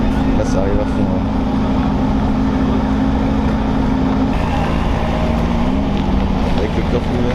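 A red Ferrari races by at full speed in a car convoy, a loud engine drone holding steady, then shifting pitch as it passes, with wind buffeting the microphone and people talking over it.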